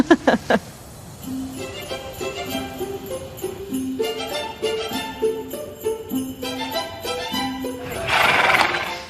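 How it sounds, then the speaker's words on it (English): Horses at the Hampton Court stables at Christmas, being readied to set off for the palace: a close, loud whinny at the start, then music plays over the rest. "At the stables, the horses are nearly ready to set off for the palace"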